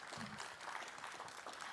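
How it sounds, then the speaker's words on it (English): Audience applause at a business talk at a trade fair, a faint, distant continuous patter of clapping from a crowd, brief and even. "Big round of applause for Rue, please."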